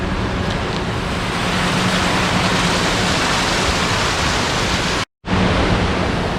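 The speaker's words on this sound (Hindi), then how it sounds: "ये सबसे ऊंचा वाला वाटरफॉल है जो तवांग डिस्ट्रिक्ट में" Nuranang waterfall in Tawang district, a very tall falls, roaring as a steady, loud, dense rush of water that fills the whole scene, briefly cut once near the end.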